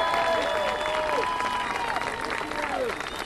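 A rally crowd in Washington, DC bursts into dense, sustained applause, with scattered cheering voices and whistle-like tones rising and falling through the steady clapping.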